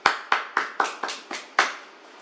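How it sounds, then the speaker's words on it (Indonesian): A few people clap for a student's class presentation, seven distinct sharp claps in an uneven rhythm, close and fairly loud in a small room, with no talking. "Tepuk tangan untuk Mas Dimas."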